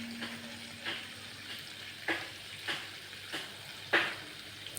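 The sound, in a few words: fish frying in oil in a pan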